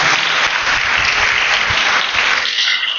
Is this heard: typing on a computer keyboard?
no